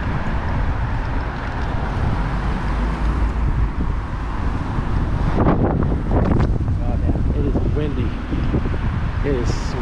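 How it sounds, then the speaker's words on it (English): Wind buffets the microphone in a steady low roar along a busy city street near a bus route by a shopping mall, with brief voices and traffic-like bursts partway through. "It is windy as hell."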